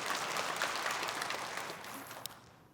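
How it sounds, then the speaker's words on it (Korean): Church congregation clapping together in a sanctuary, a steady, fairly faint patter of many hands that thins out toward the end. "주님께 영광의 박수 올려드립니다."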